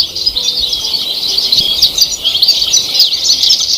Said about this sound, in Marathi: चिमण्यांच्या या आवाजाला चिवचिवाट असे म्हणतात.